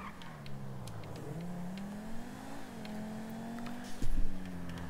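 A modded Audi R8 GT sports car driven in Grand Theft Auto V on stock 9F handling, its steady engine drone rising and dipping through shifts, with a louder rev burst near the end; no talking.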